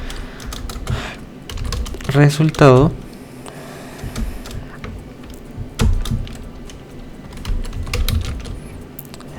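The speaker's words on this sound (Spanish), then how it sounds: "Lo siento, mi teclado está fallando." A computer keyboard with a failing key is typed on in scattered clicks and short bursts of keystrokes, close and fairly loud, while someone speaks Spanish briefly over it.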